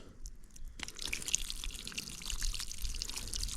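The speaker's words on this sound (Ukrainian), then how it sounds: "це крапельне зрошення і воно має капати" Drip irrigation lines on raspberry plants drip and trickle steadily outdoors, a faint constant patter of small drops with a running-water wash beneath.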